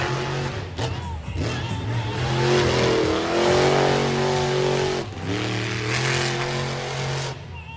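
A monster truck at a dirt-track throwdown in Salinas revs hard as it climbs over a rock wall, its loud engine roaring and surging in pitch close by, with the snarl dipping briefly before climbing again.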